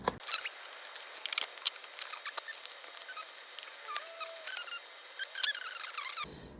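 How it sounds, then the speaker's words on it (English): Product packaging for a Pawscout Bluetooth pet tracker is cut open up close: a quick run of sharp snips, crinkles and small squeaky scrapes, quiet and with no talking. "So let's cut it open."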